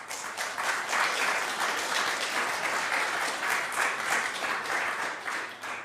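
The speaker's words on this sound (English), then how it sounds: "I think they deserve a round of applause." A conference audience at a talk on space, cities, research and defence gives sustained applause, a full even roar of many hands clapping for nearly six seconds without speech.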